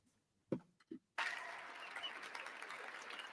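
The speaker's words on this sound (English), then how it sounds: "Look how fast they're clapping." An audience at a presidential inauguration bursts into loud, sustained clapping after a few brief sounds, continuing steadily to the end.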